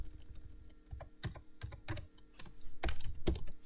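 Typing on a computer keyboard: a close, uneven run of key clicks and thumps, bunching into quick bursts toward the end, heard alone without speech.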